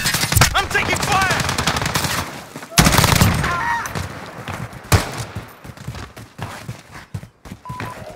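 Gunfire in a Call of Duty Modern Warfare team deathmatch match: rapid automatic bursts fill the opening seconds, then sharper single shots and a loud crack, mixed with game announcer voice callouts.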